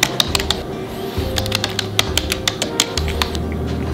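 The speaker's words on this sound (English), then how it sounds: "So all you do is just rest and type away." Fingers tap steadily on a computer keyboard resting on a keyboard stand with a wrist rest, giving a close, crisp run of irregular key clicks over a low background hum, with no talking.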